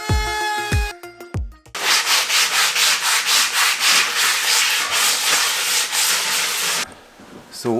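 Wood is sanded for a Land Rover Defender camper build, with a loud, rhythmic back-and-forth rasp of strokes running for several seconds after a few brief knocks, then stopping.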